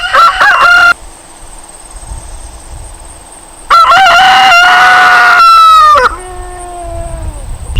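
Loud, close rooster crows ring out twice, with shorter clucks and squawks from chickens in between and around them.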